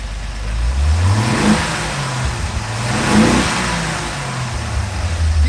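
An old straight-six engine in a 1982 truck runs and revs twice, rising and falling, with a steady ticking of loud lifters beneath the close, rough mechanical drone.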